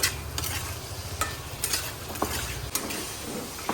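Torn green chillies frying in a pan, with a steady sizzle and a few sharp stirring clicks and scrapes of utensils against the pan.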